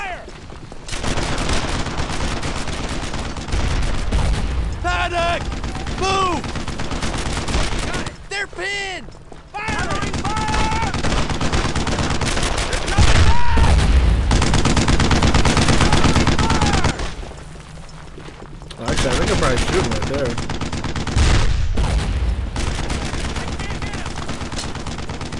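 Dense, loud gunfire from a World War II shooter, Brothers in Arms: Earned in Blood, with near-continuous machine-gun bursts and rifle shots. Soldiers shout over the shooting, which drops away briefly several times before resuming.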